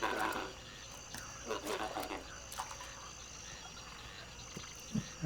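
Frogs croak intermittently in the Myst IV: Revelation game world, scattered short calls near and far over a quiet ambient hum, with a louder burst at the start and no talking.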